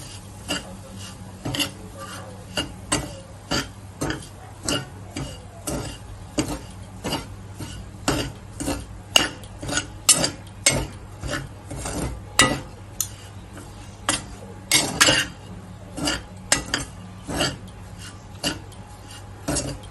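Besan (gram flour) being roasted for ladoos, stirred in a pan with a spoon that scrapes and taps steadily against the metal, a continuous run of close clinks and rasping strokes with no talk.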